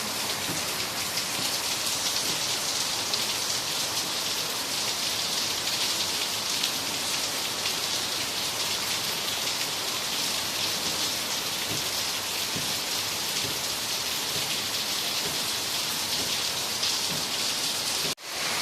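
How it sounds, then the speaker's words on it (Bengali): Heavy rain pours down steadily on a rainy day, a dense, even hiss of drops hitting surfaces that holds unbroken for the whole stretch with no voices. "এই যে দেখো কেমন ঝমঝমিয়ে বৃষ্টি পড়তেছে।"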